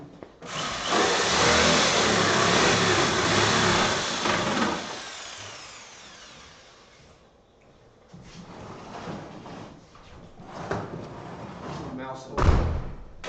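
Drive motors on a FIRST Robotics Steamworks competition robot whir loudly as they are throttled, a broad sustained roar for several seconds that fades, followed by scattered clunks and a louder thump, with people talking throughout.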